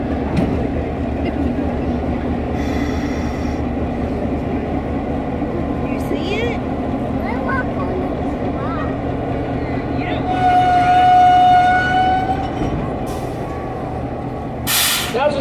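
An army surplus switching locomotive rumbles steadily as it turns on a turntable, with a low continuous engine drone, air brake hisses and a brief high squeal near the end, while people talk nearby.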